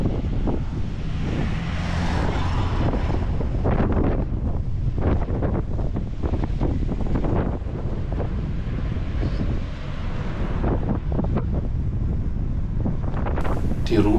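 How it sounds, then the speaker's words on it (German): Fierce, relentless hurricane-force sandstorm wind near Tan-Tan, Morocco, roaring and battering the microphone for the whole stretch, with heavy rumbling gusts and no letup. "der mittlerweile schon orkanartige Sandsturm genau von der Seite kommt"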